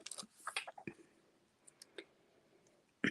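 Scissors fussy cutting around a stamped paper hat image for a Christmas card, a few quiet snips and paper clicks close by, with a sharper snip at the end and near-silence between.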